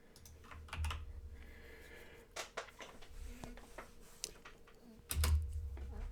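Keys clatter on a computer keyboard in quick, uneven bursts of typing as a search is entered in Windows. The taps are close and moderately loud, pausing briefly between bursts, with no speech.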